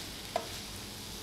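Mushroom and tomato filling for a vegetarian pasta bake stirred in a pan, with a soft steady sizzle and a single brief scrape of the spoon, quiet and close.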